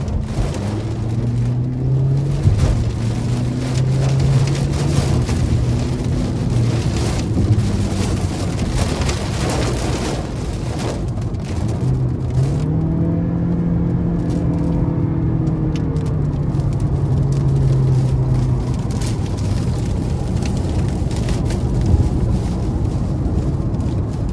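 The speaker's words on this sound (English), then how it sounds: "Even as it started pouring rain there, it still didn't try to get away from me." Heavy rain and strong wind batter a moving 2024 Toyota Corolla Hatchback SE on the road, a dense steady wash of noise under the low engine and tyre drone, loud and close throughout.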